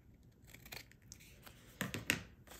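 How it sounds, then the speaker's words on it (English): Scissors trim excess paper from the edges of a floral craft piece, giving a few close, soft snips and a paper rustle, with the loudest cuts near the end. "I'm just going to cut the excess off on each side"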